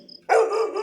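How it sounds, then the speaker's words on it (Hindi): A pet dog barks once, suddenly and close, a single sustained loud bark breaking a quiet room in a horror audio story. "अचानक निखिल का प्यारा कुत्ता टिमी भौंकने लगा।"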